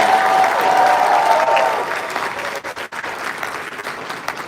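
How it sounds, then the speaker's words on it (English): A crowd at the Blerdcon 2025 closing ceremonies breaks into loud, continuous applause, a thick rush of clapping mixed with a few cheers that gradually thins toward the end. "give him a big round of applause for giving us another round"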